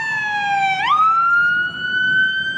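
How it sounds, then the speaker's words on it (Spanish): An ambulance siren wails loud and close on a road blocked by protesters, its tone sweeping sharply upward mid-way, then holding a steady high pitch as the vehicle passes. "Al menos los manifestantes permitieron el paso de una ambulancia."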